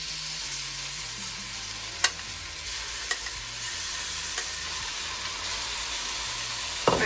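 Oxtail pieces sizzle and fry steadily in hot oil, a continuous close crackling hiss with a few sharper pops and stirring clicks, no voices over it.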